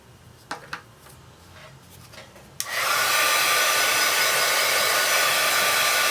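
A heat tool switches on abruptly after a few quiet clicks and handling noises, then blows a loud, steady hiss of hot air while heat-setting ink on kraft glassine.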